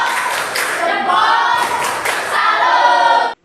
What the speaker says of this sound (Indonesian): Boleh tepuk salut.